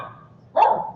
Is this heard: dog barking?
yes